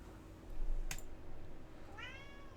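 A single cat meows near the end, a short rising call preceded by a sharp click and low background hum.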